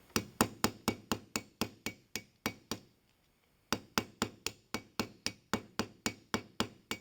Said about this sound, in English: If you hit too hard, you'll bend the pin inside the barrel of the hinge